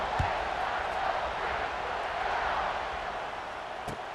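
Football stadium crowd roaring after a long touchdown drive as the kickoff unit takes the field, a dense, steady wash of distant cheering that holds for the whole stretch with no clear voices on top.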